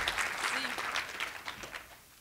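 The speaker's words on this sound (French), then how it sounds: "Est-ce qu'on peut l'applaudir, s'il vous plaît?" Brief burst of audience clapping at a church gathering, a short spell of scattered applause that quickly fades.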